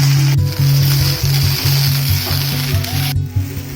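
Steady oil sizzle of coriander leaves frying in a pan, with a faint rhythmic low hum underneath and a brief scrape near the end.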